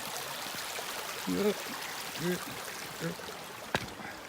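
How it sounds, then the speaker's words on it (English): Water rushes steadily in a shallow creek crossing on the Bright Angel Trail in the Grand Canyon, a constant broadband wash with a few faint murmurs of voices and a brief knock. "this is the first creek crossing"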